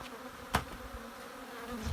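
Honey bees buzz steadily around a hive during a spring inspection, a soft continuous hum with one brief louder thump or rustle early on, no voices.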